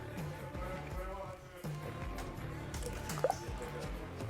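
Water drips and trickles from a crop sprayer being repaired before the season, with soft wet splatters and a short squishy burst near the end, while someone speaks over the sound.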